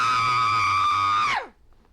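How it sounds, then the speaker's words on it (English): A woman lets out one sustained, high, tonal scream at full voice for over a second, then breaks off with a downward fall into quiet. "I want to scream at the top of my voice"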